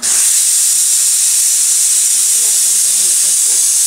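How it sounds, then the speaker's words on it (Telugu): A pressure cooker cooking dal blasts its first whistle in a loud, steady, high-pitched hiss of escaping steam, with faint voices underneath. "పప్పు విజిల్స్ ఇప్పుడే స్టార్ట్ అయిందండి"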